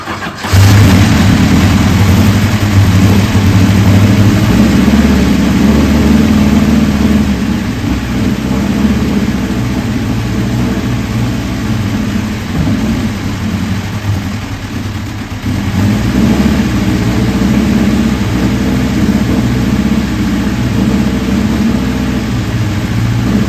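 A Silver Crown Champ race car engine runs steadily and loud close by, with a rich low rumble and small shifts in pitch, holding up for the whole stretch with no talk over it.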